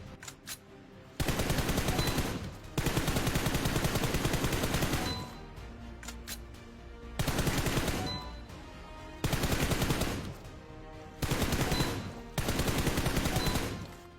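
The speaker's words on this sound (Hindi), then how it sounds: "आप लोग सिर्फ सामने वाले टारगेट्स के हेड पर ही गोली मारो।" Gunfire from the BGMI (PUBG Mobile) training ground, aimed at targets in the video game: loud automatic bursts of several seconds alternate with short pauses, repeating across the clip with no talking.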